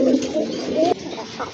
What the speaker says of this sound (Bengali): এই যে দেখেন খুব ভালো ডাকে কিন্তু, দেখার মতো একটা নর কবুতর মাশাআল্লাহ।